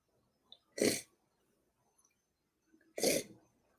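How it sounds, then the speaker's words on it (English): Two loud, noisy blasts of a nose being blown, a few seconds apart, each a short forceful rush of air in otherwise quiet surroundings. "I gotta blow my nose"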